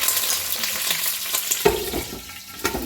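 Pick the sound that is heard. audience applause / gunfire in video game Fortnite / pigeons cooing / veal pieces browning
veal pieces browning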